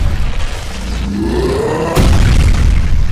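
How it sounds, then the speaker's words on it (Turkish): A sudden loud boom of a cartoon head exploding in a Skibidi Toilet episode bursts in partway through, following a rising whistle-like tone, with a dense rumbling wash continuing afterward. "Ve beyni patladı."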